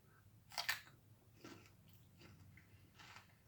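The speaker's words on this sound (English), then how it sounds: "I'm eating it with celery." Celery eaten with tuna mixed with mayonnaise and cream cheese, giving one sharp close crunch followed by quieter chewing bites, faint and near.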